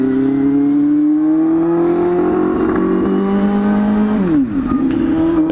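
A Honda Hornet 250 motorcycle, heard from the rider's seat, revs up loud and close with a steadily rising engine whine, then drops sharply on a gear change and pulls on again.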